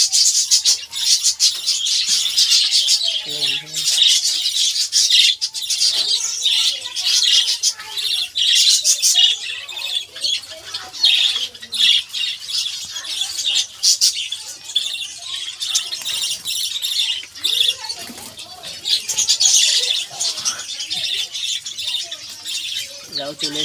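Farm birds chirp, tweet and squawk in a dense, continuous chorus while they feed, with occasional rustling and soft flutters close by.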